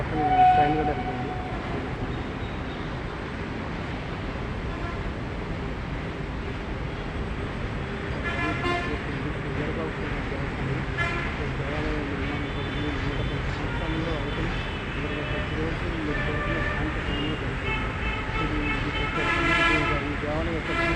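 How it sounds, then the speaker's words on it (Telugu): A train rolls past nearby beside a temple in Vijayawada, a continuous rumble of wagons with brief horn-like tones, lasting the whole stretch and heard close without speech. "చూడొచ్చు పక్కన ట్రైన్ కూడా వెళ్తుంది."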